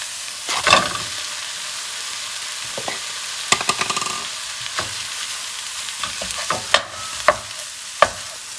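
Ground beef, about 500 grams, browning in a pan, a continuous close sizzle broken by scrapes and clacks of stirring that come irregularly and grow sharper toward the end.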